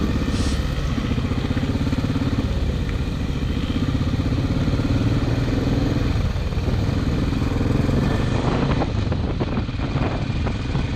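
Motorcycles carrying two riders each roar steadily through Conakry streets at night, engine drone loud and continuous with wind buffeting the microphone and no talk.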